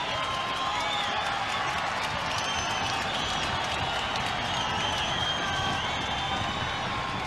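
A large rugby league stadium crowd roars steadily after a 40-20 kick by Matty Bowen in a 2003 Penrith versus North Queensland Cowboys match, a sustained, distant wash of cheering with no pauses.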